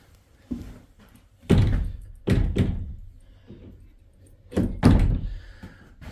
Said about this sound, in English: if I close this door